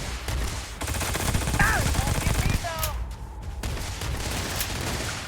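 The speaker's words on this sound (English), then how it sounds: "That scatter laser effect." Scatter laser weapon fire in the video game Starfield comes as a rapid series of harsh, crackling bursts over roughly three seconds, with a few chirping electronic effects and a quieter rumble afterward.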